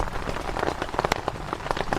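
Steady rain drums on a camping tent on an island at night, dense and close with sharp individual drops pattering over a constant wash.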